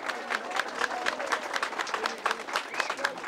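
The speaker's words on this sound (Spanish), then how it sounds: "a los cuales pido también un aplauso" An audience at the ceremony declaring Cienfuegos a World Cultural Heritage site claps in steady, rhythmic applause that holds at a moderate level throughout and sounds somewhat distant.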